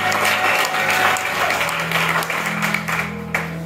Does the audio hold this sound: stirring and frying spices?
no